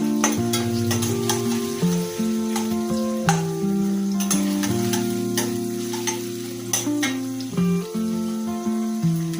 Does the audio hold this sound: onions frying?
yes